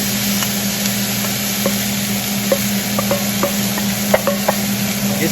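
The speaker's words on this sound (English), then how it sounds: "here I am going to saute some of those, or actually all of those" Vegetables sautéing in butter in a pan over slightly more than medium heat, a steady broadband sizzle with scattered small clicks and taps from stirring, close and continuous without speech.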